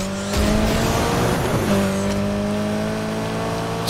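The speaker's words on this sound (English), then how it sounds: "I love the sound of the engine, it's so hot." A racing car engine in the video game Need for Speed Heat revs high and loud with shifting pitch, joined by brief tire squeals, steady and close throughout.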